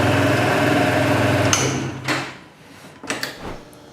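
A Yamaha XMAX 2019 scooter engine runs with a steady buzzing drone, then cuts to a few sharp clicks and knocks.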